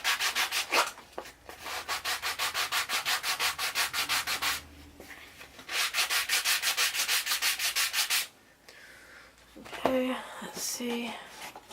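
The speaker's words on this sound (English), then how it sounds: "So I'm just going to take my sandpaper and grind." Wood sanded by hand with sandpaper, an eighth of an inch being taken off a piece: rapid, even back-and-forth rubbing strokes in two long bursts, close and steady, with brief pauses and a voice speaking near the end.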